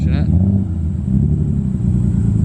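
A car passes close by, a low engine rumble that swells and holds steady for a couple of seconds.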